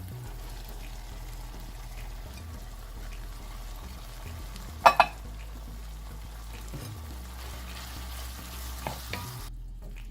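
Finely chopped vegetables and cabbage cooking in a pan for a homestyle iftar dish, giving a steady low sizzle with stirring and a couple of brief clatters of the utensil against the pan midway.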